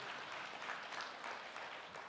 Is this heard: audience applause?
yes